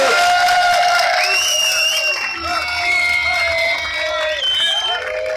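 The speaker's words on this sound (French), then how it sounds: "on l'applaudit encore une fois" An audience at a French sculpture championship prize ceremony cheers and claps, a steady crowd roar with whoops and tonal shouts rising over continuous clapping throughout.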